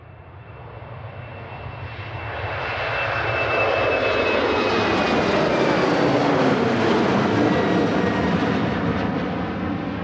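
A Finnair airliner passes at Manchester Airport, its jet roar swelling over a few seconds into a loud, broad, sustained rush that holds steady and then begins to ease slightly.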